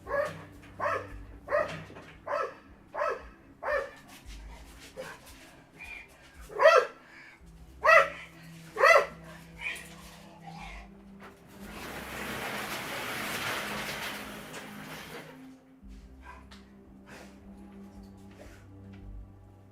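A neighbor's two dogs bark in a series of sharp, evenly spaced barks, loud and fairly close, followed by a stretch of broadband noise and then quieter background.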